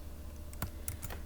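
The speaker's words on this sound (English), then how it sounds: "we're going to type this formula in here" Keys on a computer keyboard are pressed while a formula is entered into a spreadsheet, a few quick, close clicks over a quiet background hum.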